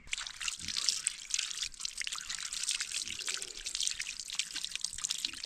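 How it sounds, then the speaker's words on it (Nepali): Waterfall water trickles and splashes steadily, a soft continuous babble with small drips, heard close and fairly faint in a jungle setting. "झरनाको पानी"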